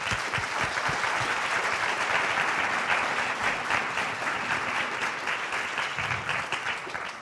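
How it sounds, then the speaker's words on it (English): Sustained applause from participants at the closing of a Musqueam gathering, dense steady clapping filling the room for the whole stretch at an even, moderately loud level with no voices standing out. "So a round of applause for everyone."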